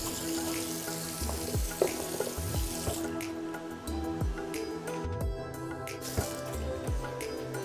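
Tap water runs steadily into a kitchen sink as fresh cilantro is rinsed, with a few soft knocks and clunks of handling underneath the continuous splashing stream.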